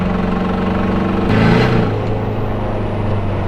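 Engine drone of a stanced car with new tow arms, heard from inside while driving; a steady low hum that swells briefly in the middle, with no talk over it.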